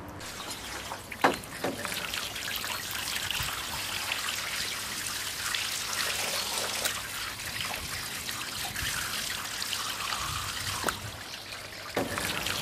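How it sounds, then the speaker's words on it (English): Water rinsing fir needles down onto a gutter protection system, a steady close trickle and splash running throughout with a few sharper knocks. "Here we simulate a strong infestation of fir needles and rinse them with water down"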